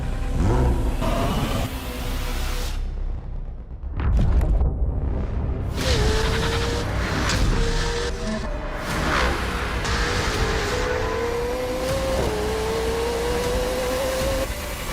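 An Acura NSX sports car engine revs and roars in rising surges over dense booming, whooshing effects and music, loud and close throughout.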